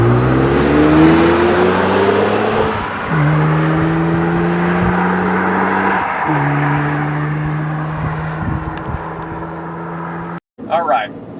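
Sports car engine with an 8,000 RPM redline revving hard, climbing through several gear pulls with rising pitch and short dips between shifts, loud and close, then cutting out abruptly near the end.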